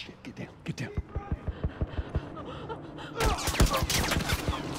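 Gunfire in The Last of Us Remastered: a regular rhythmic run of about a dozen sharp shots, then a denser, louder burst of fire and commotion, with voices speaking over the action.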